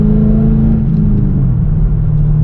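A car engine pulls steadily at half throttle from inside the cabin, a loud, even low drone and rumble with a slight rise in pitch, no voices.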